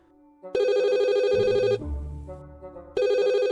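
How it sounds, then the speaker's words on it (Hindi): A phone rings in a loud, bright electronic tone that starts abruptly, holds for about a second, breaks off while a low thud and rumble fill the gap, then resumes at the end. "तभी फोन बजने की आवाज आती है।"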